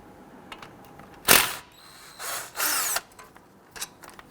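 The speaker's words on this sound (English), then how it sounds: "we want to loosen and remove the two 17mm bolts on the back side" A power tool loosens the 17mm brake caliper bracket bolts on a 2006-2012 Toyota RAV4 front brake, giving several short close whirring bursts with ratcheting between them.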